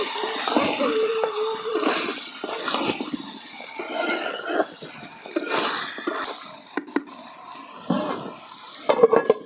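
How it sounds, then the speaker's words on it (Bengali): A utensil scrapes and clinks against a pan as chicken is stirred over a village clay stove, with intermittent stirring knocks and soft background noise. "তো এখন আমি এই যে নাড়াচাড়া করে দিচ্ছি।"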